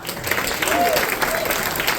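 An audience at a storytelling event breaks into steady applause, dense clapping that continues evenly throughout.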